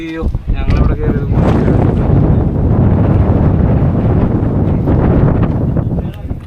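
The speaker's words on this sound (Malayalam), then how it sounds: "ഭയങ്കര കാറ്റ്." Strong wind buffets the microphone atop the Madhugiri monolith hilltop, a loud, continuous roaring rush after a brief moment of talk at the start, drowning out other sound.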